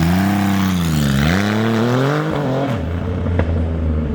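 A 150 HP Triumph Rocket touring motorcycle engine revs loudly up and down in a close, continuous roar, with the pitch rising, dipping and climbing again before settling into a lower idle.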